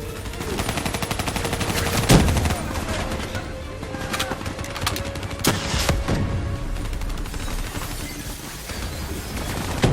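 Turret gunfire in Call of Duty Black Ops III rattles in rapid bursts with sharp cracks and scattered impacts amid a busy game soundscape, loud and continuous across the stretch.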